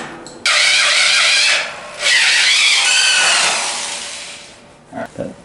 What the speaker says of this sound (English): I have to drill a hole, tighten this one down